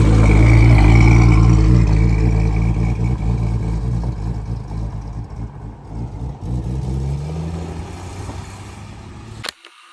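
A 1957 Ford F100 pickup with a new carburetor runs while driving, its engine a loud, close low rumble that eases off after a few seconds, steadies, then cuts out with a clunk near the end.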